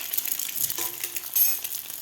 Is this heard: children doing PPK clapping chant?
no